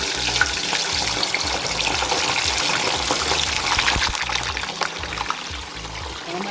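Chicken wings frying in hot canola oil in a pot on a stovetop, a steady dense sizzle and crackle with bubbling, close and continuous throughout.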